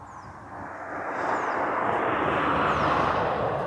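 A fixed-wing airplane at Aberdeen Airport in Scotland roars steadily and loudly in a broad jet-engine rumble that swells after the first half-second and holds strong throughout, with no talk over it.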